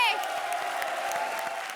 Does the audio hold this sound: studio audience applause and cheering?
yes